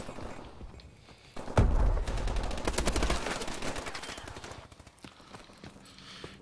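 Gunfire in the video game Call of Duty Advanced Warfare, a loud burst of rapid shots starting about a third of the way in, then tapering into scattered fainter shots and low rumble.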